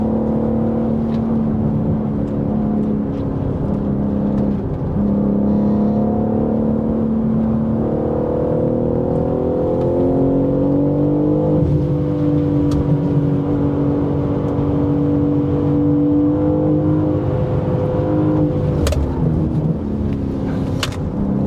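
A BMW M3 CS (G80) is driven hard on a race track, its engine droning loudly and steadily from inside the cabin, with pitch rising and falling through acceleration and braking.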